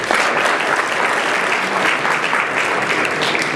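Dense, loud applause from a large audience at a high school state event, sustained and even throughout, without any break or talking.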